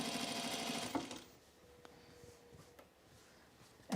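A sewing machine topstitches a shirt, running in a close, steady rapid chatter for about a second before stopping, followed by quiet handling clicks.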